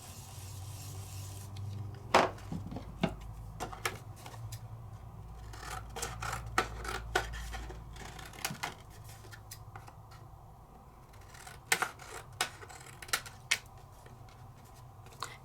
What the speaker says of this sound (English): pull some of that wax off. And just sand a little bit